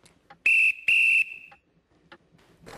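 A toy train engine whistle gives two loud, sustained shrill toots close by, the second trailing off, with faint clatter around them.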